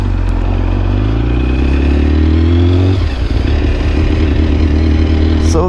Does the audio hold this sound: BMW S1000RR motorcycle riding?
yes